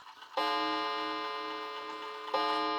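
A 1930s Garrard English mantel clock ticks steadily and closely, with an even rhythm of bright metallic ticks and no voices.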